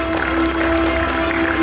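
A crowd at a cultural commission session keeps up a steady, dense round of applause for a martial arts doctorate holder, loud and continuous, with a sustained tone running beneath the clapping.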